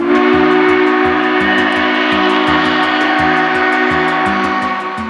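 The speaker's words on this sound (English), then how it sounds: "The sound of the whistle will only get louder and louder." Steam whistle of Southern 4501, a steam locomotive drawing closer, blowing one loud, sustained and slightly wavering tone across the whole stretch, with a rapid rhythmic clatter pulsing beneath it.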